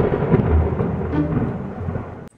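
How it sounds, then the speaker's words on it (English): A loud, deep thunder sound effect added in the Kinemaster editing app, a sustained rolling rumble with a rain-like hiss that cuts off abruptly at the end. "So we're gonna add thunder."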